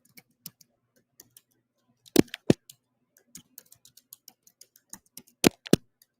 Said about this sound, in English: I'm typing it up, explanatory.